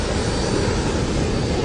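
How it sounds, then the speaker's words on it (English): A passenger jet plunges toward the Red Sea, its engines a loud, steady, dense roar that fills the short stretch without a break or any voices. "A passenger jet filled with French families is plunging towards the Red Sea."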